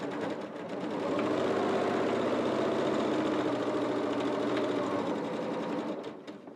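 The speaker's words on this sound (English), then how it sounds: "I'm going to sew over the previous line as best as possible and come up and around" Sewing machine running steadily while stitching a grid pattern across a soft woollen scarf, a continuous close mechanical whirr holding for several seconds before easing off at the end.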